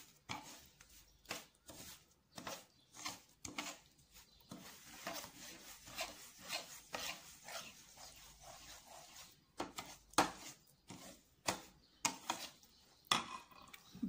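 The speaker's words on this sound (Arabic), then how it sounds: "ببدأ بقى أقلبهم في بعض كده، أخلي دقيق السميد كده يتشرب من" Semolina being stirred with ghee and oil in a pan: irregular scraping and clinking of a utensil against metal, soft and close, in uneven strokes.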